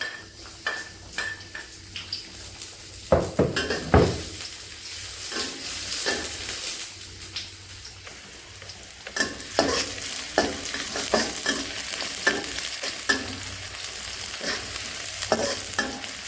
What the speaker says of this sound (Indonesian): Kita tumis bawangnya